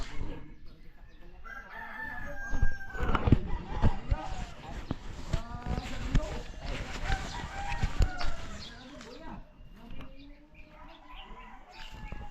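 Chickens on a Filipino farm cluck and a rooster crows repeatedly amid busy, overlapping bird noise, with people talking throughout.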